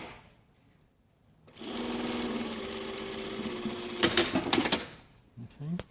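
Sewing machine running steadily for a few seconds while stitching a jacket pocket bag, preceded by a quiet pause and ending with a few brief handling bumps; close and fairly loud.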